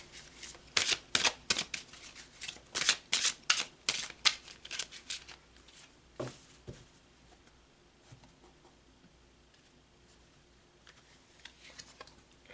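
Tarot cards are shuffled in quick papery riffles and flicks, close and crisp, then fall quiet as a card is drawn.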